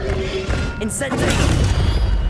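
The Incendio fire spell is cast in the Hogwarts Legacy video game: a sudden whooshing burst with booming, crackling impacts. A voice speaks over it during the short, loud moment.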